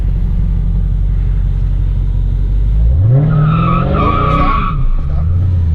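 A 2018 Dodge Charger SRT Hellcat idles with a deep, loud rumble on launch control, then launches as the engine note surges upward and the tires skid and squeal close by before the sound settles.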